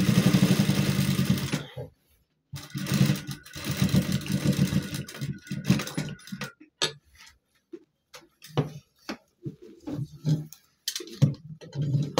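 A tailor's sewing machine stitches shirt fabric in rapid mechanical bursts. A long steady run is followed by shorter stop-start stitching with gaps between them, all close and fairly loud, with no talk.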